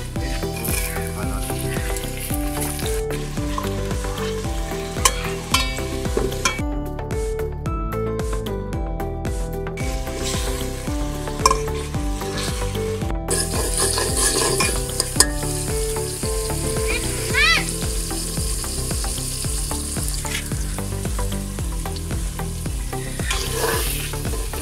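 Onions and tomatoes sizzle steadily in hot oil for Sindhi biryani, with a spoon scraping and stirring through the pan at intervals; a busy, close frying hiss runs throughout.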